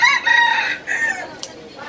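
Chickens and a rooster in a hen coop at a Saturday market stall in Krabi, Thailand, giving near, fairly loud crowing and clucking calls in two or three bursts over about two seconds.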